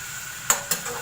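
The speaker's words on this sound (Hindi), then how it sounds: "तब तक मैं इसको फ्राई करूँगी" Chicken frying in a pan gives a steady, bright sizzle with two quick scraping stir sounds close by, no voices.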